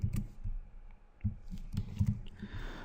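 Soft, quiet clicks of typing on a computer keyboard come in uneven little bursts, with short pauses between keystrokes and no voice over them.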